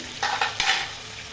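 Chicken sticks frying in a wok, a close steady sizzle with three quick scraping knocks as the pieces are turned.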